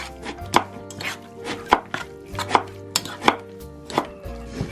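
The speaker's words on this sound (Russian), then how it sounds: "А бабуля режет редьку для панчани." A knife chops radish on a cutting board for Korean banchan, sharp regular strikes close by at roughly one per second with lighter taps between, over a faint background hum and no talking.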